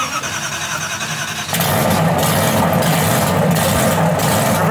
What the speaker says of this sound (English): Not that I want to start the car again